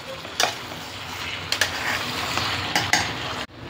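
Vegetables for veg biryani sizzle steadily in a hot pan while a spoon stirs them, with occasional metallic scrapes and clinks against the pan over the continuous frying hiss.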